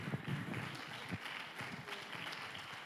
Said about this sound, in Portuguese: dê uma salva de palmas para aquele que veio